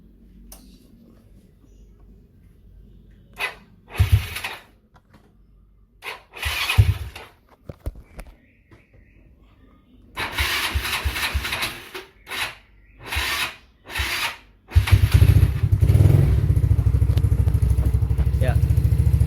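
A restored Yamaha Mio scooter engine is cranked with the starter in several short bursts that fail to catch, then settles into a steady, close running idle for the last few seconds.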